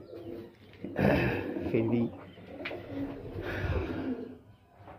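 Andhra and Malwai pigeons coo softly at close range in a loft while someone talks over them, the low burbling calls rising and falling between his words.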